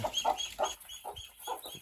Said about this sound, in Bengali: আসলে এই মুরগিটা